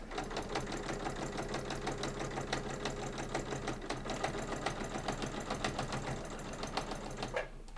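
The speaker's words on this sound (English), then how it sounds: "drop my needle, back stitch. And I'm going to sew all the way up" A sewing machine runs fast and steady, back stitching and then sewing up a cross body bag, its needle chattering in a dense rhythm close by before stopping at the end.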